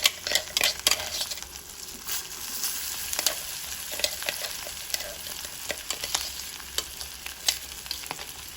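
Carrot chutney with mustard seeds, cumin, curry leaves, coriander and ginger is mixed in a pan, with quick metallic scrapes and clinks over a soft sizzle, close and fairly quiet, with no talking.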